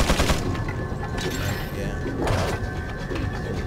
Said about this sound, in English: Okay, you're shooting.